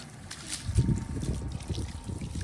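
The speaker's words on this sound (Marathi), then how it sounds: "त्याला पाणी मारतोय त्याच्यावरती" Water sprayed onto a wall in a steady, soft hiss and splatter, fairly quiet and continuous, with no talking.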